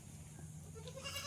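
A desi goat raised at home lets out a faint, short bleat near the end, over a low, steady background hum.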